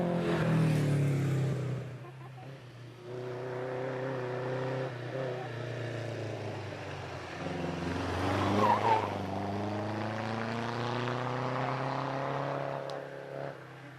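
A 1.5 litre Riley 12/4 special racing car climbs a hillclimb course, its engine note rising and falling through gear changes as it passes fairly close, with a brief tyre squeal and a faint voice underneath.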